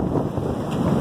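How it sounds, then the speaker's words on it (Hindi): Strong stormy wind with blowing dust in the Gulshan area of Karachi roars steadily against the microphone as a constant, buffeting rush with no voices. "एकदम से मट्टी धूल और बहुत शदीद हवा चलने लग गई है"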